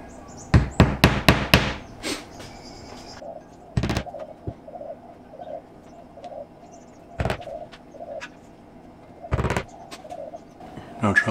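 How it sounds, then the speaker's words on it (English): Small basic nails hammered into an animal hide stretched for tanning, a quick burst of several sharp taps followed by single isolated knocks, with birds cooing steadily in the background. "we'll start nailing it down. Just use some basic little nails."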